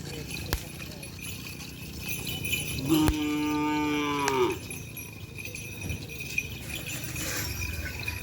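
A single drawn-out cow moo sounds partway through, mid-distance, at a cattle training field in Indonesia, over a noisy outdoor background with scattered clatter.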